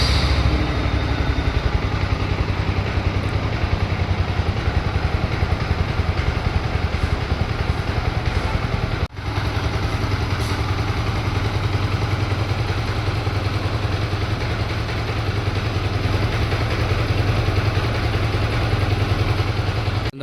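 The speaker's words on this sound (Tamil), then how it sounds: "ஸோ வண்டியோட சவுண்ட் பார்த்தீங்கன்னா" A Yamaha MT15 V2 motorcycle engine idles steadily and loudly for about twenty seconds, a continuous low, throbbing mechanical hum with slight clatter and no speech over it.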